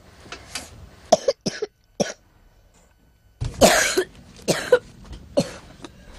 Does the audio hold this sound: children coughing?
yes